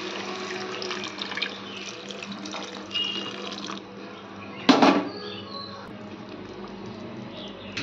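Soaked tamarind juice poured into a pan of stuffed brinjal curry, a soft watery splash and trickle with a brief louder gush midway, close and fairly quiet.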